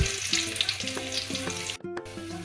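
Cumin seeds and curry leaves crackle and sizzle in hot oil, a steady bright fizz with popping, close and continuous, broken by a brief cut near the end.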